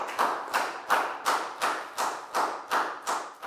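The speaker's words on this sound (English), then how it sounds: "High five and a big round of applause for Preo" Classroom applause for a student, heard as about eight evenly spaced bursts of claps or slaps, close and fairly loud, with no talking.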